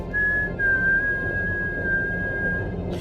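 A single person whistles one long, steady, sustained note in an audio drama, over a low background hum, with no talking.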